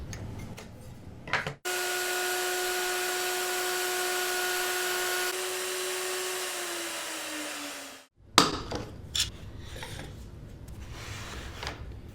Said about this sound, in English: the router bit would stop about a 1/2 inch in from the edge, giving me another stop dado on this end